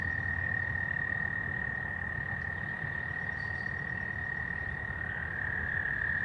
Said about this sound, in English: those frogs little as hell too. They make the most noise